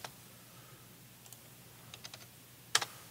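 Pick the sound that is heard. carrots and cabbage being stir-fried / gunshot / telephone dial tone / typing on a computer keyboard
typing on a computer keyboard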